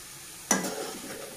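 Potatoes for aloo fry sizzle in a pan and get one stir: a single sudden scrape of the spatula, then a soft, steady frying hiss that carries on to the end.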